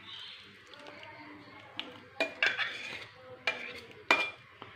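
Coconut masala paste is stirred into a pot of homemade fish curry, with quiet wet scraping broken by a few sharp spoon-on-pot clinks at close range.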